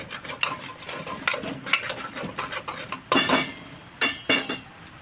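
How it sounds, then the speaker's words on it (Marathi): A masala of ground tomato and fresh coconut is stirred and fried in oil for a bitter gourd dish. A utensil scrapes and clinks against the pan in quick, irregular strokes, close and clear. "व्यवस्थित तेलामध्ये परतून घ्यायचा मसाला"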